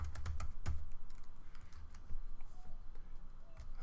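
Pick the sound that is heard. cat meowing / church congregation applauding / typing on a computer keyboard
typing on a computer keyboard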